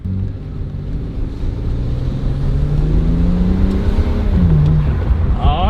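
A BMW E90 335i accelerates hard at full boost, its engine droning loud and close from inside the car as the pitch climbs steadily, dips briefly and then rises again.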